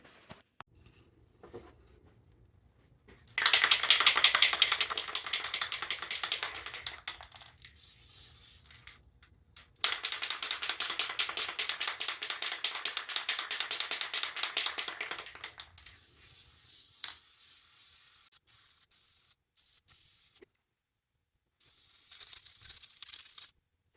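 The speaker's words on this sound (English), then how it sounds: "Let's hit this thing with its first coat of Krylon" Krylon spray paint hisses onto a handmade wooden jerkbait in two sustained bursts of several seconds each, close and fairly loud, separated by a quiet gap and followed by a few shorter, fainter puffs.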